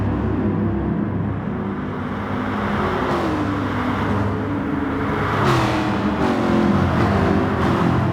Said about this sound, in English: I always really like the Corvette sound.